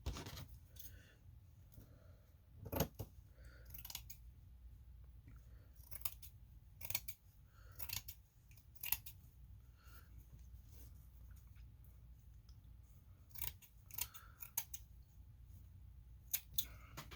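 Scissors snip through a homemade placemat piece, trimming a small edge around it. The blades make a series of quiet, close, irregular cuts over a faint room background, with no talking.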